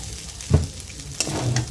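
Egg chicken pasta sizzling in a hot pan as fried egg is added, with a couple of sharp utensil clanks from stirring over a soft, continuous frying hiss.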